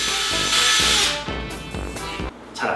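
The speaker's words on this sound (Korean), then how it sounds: "그러면 얘로 싱크대에 구멍을 뚫을 거예요." Cordless electric drill boring into an 18mm wood board, a close, high whirring grind that rises and dips in pitch as the bit bites, with short pauses between pushes.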